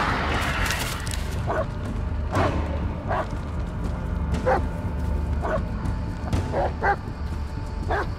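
A dog in the horror video game Blair Witch barks and yips repeatedly in short, spaced bursts over a constant low background drone, each bark fairly close and clear.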